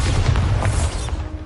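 Bombarda blasting spell explosion in Hogwarts Legacy, a short loud rumbling boom with crackling debris that fades after about a second, no speech.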